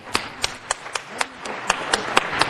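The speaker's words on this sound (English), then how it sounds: "I would ask all of you just to give them a round of applause" Applause at a city council meeting welcoming visiting students, heard as a thin run of about ten distinct, evenly spaced claps, close and sharp, from only a few hands.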